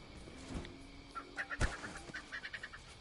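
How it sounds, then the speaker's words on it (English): Birds chirping and honking in a jungle setting of the Marvel's Avengers video game during the War for Wakanda expansion, a series of short calls over a steady ambient background. "Hear the bird sounds as well."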